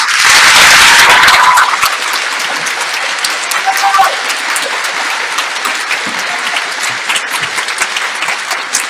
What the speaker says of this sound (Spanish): Vamos a darles un muy fuerte aplauso.